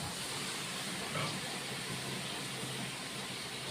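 Kashmiri chilli powder masala with cumin powder hisses loudly and evenly in a pan after a little water is poured in, a dense, steady sizzle with no voices.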